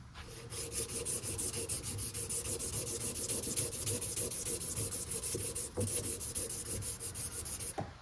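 A wooden knife handle sanded by hand at 800 grit, producing loud, close, rhythmic rubbing strokes in quick succession that continue steadily throughout.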